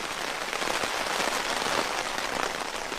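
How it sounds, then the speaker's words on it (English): Rain patters on a tent's rain fly at night, a dense, even hiss of drops that is fairly soft and continuous, with no voices. "I can actually already feel a little bit of splatter coming through the rain fly here."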